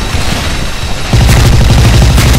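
Grenade explosion in the video game Special Force 2: loud, dense, rumbling combat noise that steps up sharply partway through into a rapid, rattling burst of gunfire-like impacts, with no voices.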